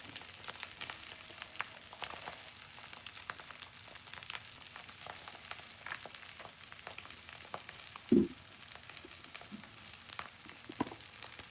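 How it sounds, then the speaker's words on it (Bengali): Cabbage tossed into a hot pan with softened carrots for egg fried rice, frying with a steady faint sizzle and a couple of brief clinks of utensils. "এখন আমি বাঁধাকপিগুলো দিয়ে দিব।"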